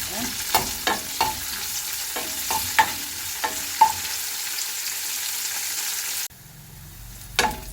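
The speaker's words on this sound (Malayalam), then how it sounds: "കുറച്ച് കറിവേപ്പില, സവാള വെക്കുന്നുണ്ട്." Curry leaves and sliced onion frying in hot oil, with a soft continuous sizzle broken by repeated scraping stirs, then a quieter stretch near the end and one last stir.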